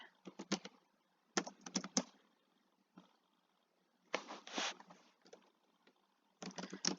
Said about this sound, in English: I just got really excited and just kept typing